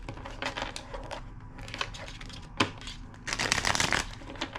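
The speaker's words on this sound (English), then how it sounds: "2 more shuffles." A deck of tarot cards is shuffled by hand, with bursts of riffling and soft slapping at close range and quiet gaps between them.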